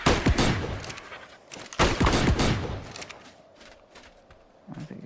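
Sharp, loud shotgun blasts of Dragon's Breath shells fired at a dummy in the ARK video game, a quick pair followed by a third, each trailed by a fiery rushing crackle.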